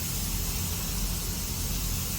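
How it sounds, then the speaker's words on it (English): A spray gun coats a boat hull with Awlgrip paint inside a spray booth, giving a steady, close, broadband hiss that runs without a break from start to finish. "I'm in the other spray booth painting the hull with a 26."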